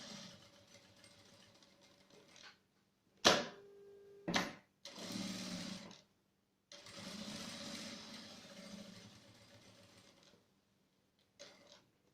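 A sewing machine stitching and backstitching a seam on a fabric phone wallet, heard as several short bursts of mechanical whirring separated by pauses, faint and close.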